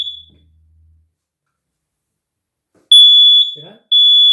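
A combination smoke and carbon monoxide alarm being tested gives loud, piercing high beeps, with a short chirp at the start and two sustained tones near the end, separated by a long silence and a brief low voice.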